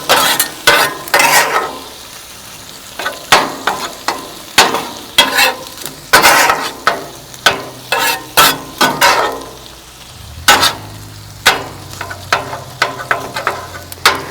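Rice being mixed on a hot Big Green Egg griddle gives a loud series of scraping, clacking spatula strokes in an uneven rhythm over a low sizzle, with a short pause before the scraping resumes.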